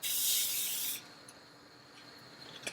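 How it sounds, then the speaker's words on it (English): A steady hiss of an aerosol cooking spray lasting about a second, then quiet with faint small clicks. "I'm just going to spray some cooking oil in the pan, just very little."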